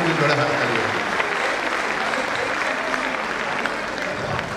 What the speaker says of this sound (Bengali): একবার ওনাদের জন্য একটু জোরে হাততালি হয়ে যাক